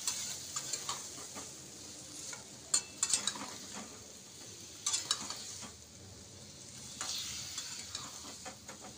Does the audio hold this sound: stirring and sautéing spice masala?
yes